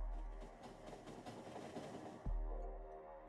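A train in the video game Factorio rumbles along with a dense rolling clatter, then settles into a lower steady hum near the end, no talk.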